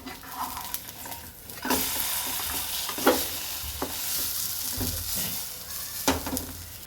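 Dankila, a crispy Gujarati snack topped with sesame seeds, sizzles softly in a pan as it is flipped, with quiet frying hiss broken by several scraping, stirring knocks from a spatula.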